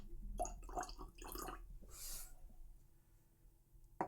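Water poured into a glass of whisky, faint close trickles and drips in a quiet room.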